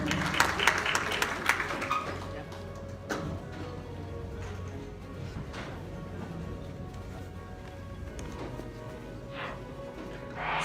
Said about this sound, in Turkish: Gecemizin yıldızını güçlü alkışlarınızla sahneye davet ediyorum.